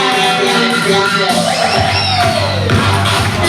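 A crowd at a Casa-Casa Queen of the Night pageant shouts and cheers loudly, a continuous roar of voices with rising whoops, mixed with an amplified host speaking over it.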